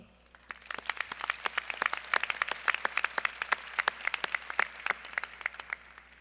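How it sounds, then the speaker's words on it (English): Graduates at a business school specialty masters commencement ceremony applaud, a sparse, quiet patter of scattered claps that builds into denser clapping and then thins out. "Give yourselves a round of applause."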